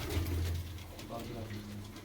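Low, soft cooing of pigeons nearby, a few murmuring calls over faint background noise.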